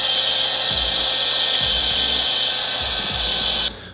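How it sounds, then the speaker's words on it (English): A heat gun blows with a steady, close whirring hiss as it shrinks a heat-shrink cover onto a wire, cutting off abruptly near the end. "I'm gonna use a heat gun to heat that wire cover and shrink it down"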